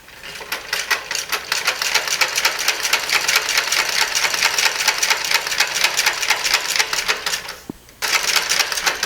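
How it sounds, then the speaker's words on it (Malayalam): A domestic sewing machine stitches piping with a steady, fast mechanical chatter that runs almost continuously, pausing briefly near the end before resuming. "നമ്മൾ സാധാരണ സ്റ്റിച്ച് ചെയ്യുന്നത് പോലെ തന്നെ സ്റ്റിച്ച് ചെയ്ത് പോയാൽ മതി."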